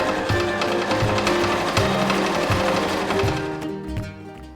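A sewing machine stitches the hem of a handmade suit jacket sewn from inexpensive fabric, running steadily with a fast, even mechanical chatter and brief rhythmic pulses, close and fairly loud, trailing off at the end.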